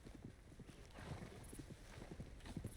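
Horse hooves clip-clop in a steady, quick rhythm within Red Dead Redemption 2, fairly faint against a constant background hiss, with no voices.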